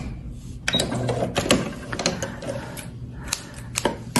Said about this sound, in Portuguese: E nessa máquina que tem esse sobe e desce da agulha, você pode costurar no botão